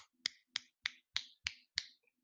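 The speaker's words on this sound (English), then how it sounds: "Clapping with one hand." Six crisp finger snaps used as one-handed clapping, evenly spaced and sharp against a quiet background.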